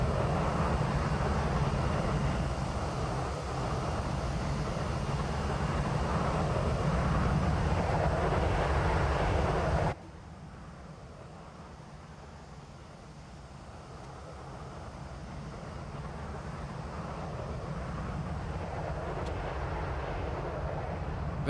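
Cockpit and engine sounds of a Boeing 737 Classic Plus in the X-Plane 12 flight simulator, a steady broad jet roar that drops abruptly to a quieter hum midway, then slowly swells again.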